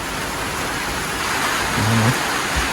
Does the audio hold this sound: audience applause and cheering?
no